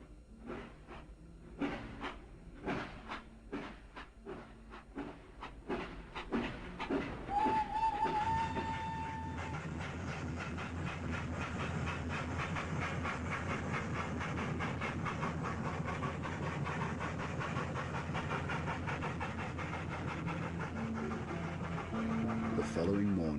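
A train sets off with a series of chuffs that quicken into a whistle, then settles into a steady rumble and clatter of rolling wagons, heard over spoken narration.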